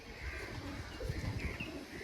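Soft, low cooing from Chini Kaldum, Saharanpuri and Kalshila pigeons, heard faintly and continuously at a distance with no talking.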